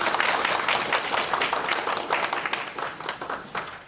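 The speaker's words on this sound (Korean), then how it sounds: "네, 박수로." Audience applause fills a council forum room on youth education policy, dense steady clapping from a crowd throughout, loud and close with no speech over it.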